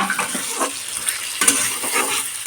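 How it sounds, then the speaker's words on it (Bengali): Potatoes are sautéed in a pan for egg curry, a close, bright sizzle with uneven stirring scrapes and light clatter over about two and a half seconds, with no speech. "ডিমের ঝোলের জন্য আলুগুলোকে কষিয়ে নিচ্ছি"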